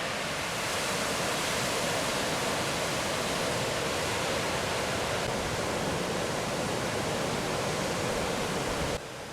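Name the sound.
water rushing through Aratiatia Dam control gates into gorge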